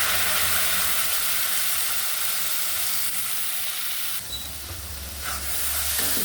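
Onion, turmeric, coriander powder and spice paste fry in oil for a rohu fish curry, giving a loud, continuous hissing sizzle close by that briefly dips before resuming.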